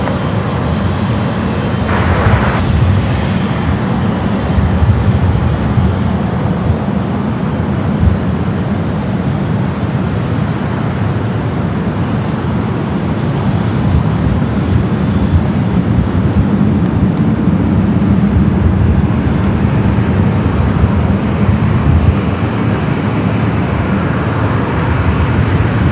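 A Boeing 777 airliner landing at LAX, heard as a continuous, even roar of jet engine noise that holds steady for the whole stretch with no voices over it.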